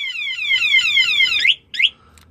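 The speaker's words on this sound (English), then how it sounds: "Oh, sorry about the alarm." A motor scooter workshop alarm, heard while servicing a GY6 brake assembly, sounds loudly with a rapid warbling, repeating electronic tone for about a second and a half, then gives one short final burst before falling quiet.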